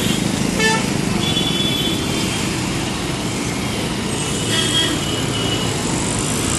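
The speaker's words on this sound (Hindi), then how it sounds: "ट्रैफिक लग चुका है," Congested road traffic on the Shivpur bypass in Varanasi, with a constant engine rumble and repeated short car-horn toots at moderate distance, loud and with no speech.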